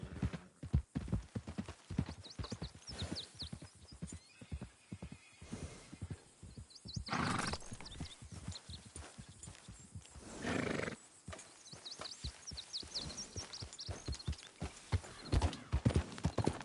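Steady clip-clop of horse hooves in the video game Red Dead Redemption 2 runs throughout, with a couple of loud neighs breaking in midway; close and busy, like a rider moving along.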